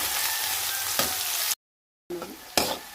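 Onions fry in a home kitchen pan with a bright, close hiss, broken by a sudden silent gap. The sizzle returns after the gap with a couple of sharp stirring scrapes.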